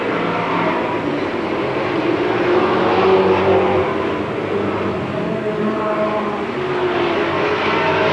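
Race cars circle a short oval track, a steady, loud wash of engine roar with slight swells as the pack passes, continuous throughout with no clear breaks.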